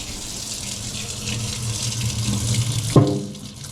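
Cold water runs steadily from a kitchen tap into a sink, a soft continuous gushing stream that ends with a sharp clunk as the tap is shut off.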